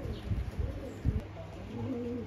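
Pakistani high flying pigeons cooing faintly in low, rolling bursts, with a brief thump partway through and a quiet, steady background, no talk.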